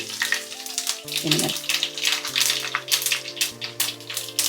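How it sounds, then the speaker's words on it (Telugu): Mustard seeds, cumin and garlic crackle and sizzle in hot oil for sambar, a steady near frying hiss under background music. "ఆవాలు చిట్టపట్లు ఆడినంత వరకు వెయిట్ చేసి జీరా జీలకర్ర వేసుకుందాం వెల్లుల్లిపాయలు"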